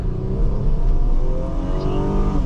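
A 1999 Toyota Camry LE V6 engine accelerating from inside the car, a steady, loud rising hum with a broad low-end rumble held throughout, with no voices.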